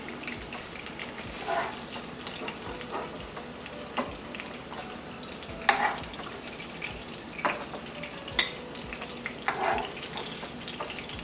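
Brinjal slices sizzle in hot oil in a pan, a faint steady frying hiss broken by occasional crackles, scrapes and clinks of utensils against the pan.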